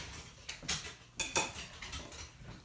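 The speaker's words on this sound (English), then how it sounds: "We're going to wire whisk this together so the dry ingredients are nicely incorporated" A wire whisk clinks and scrapes against a bowl in a few quick bursts, stirring dry pretzel dough ingredients including flour and salt, close and fairly quiet with no talking.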